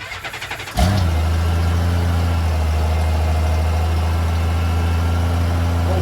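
A 1994 Honda GL1500 Goldwing engine cranks briefly, then catches and settles into a steady, loud, even idle on full choke after a fuel pump replacement, running on without any voices.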